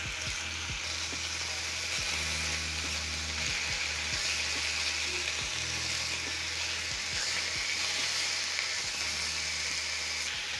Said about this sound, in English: Then I'm going to cook until the edges are crisp, or you can cook according to your preference.